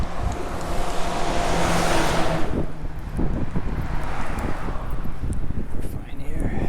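A pink car driven along a roadside in Japan between Hamada and Gottsu, Shimane, swishing past close by in a broad rush of traffic noise and wind, with a person talking over it.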